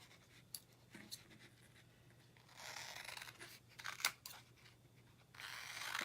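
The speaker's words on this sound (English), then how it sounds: "So let me grab my scissors." Scissors snipping paper flowers during a chalk-transfer craft project, a few quiet separate cuts and rustles followed by a longer burst of crisp paper snipping, close and soft in a calm room.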